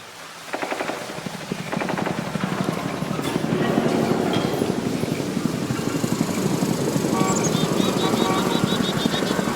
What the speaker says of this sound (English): this is what the distant ambient helicopter sounds like in Warframe 1999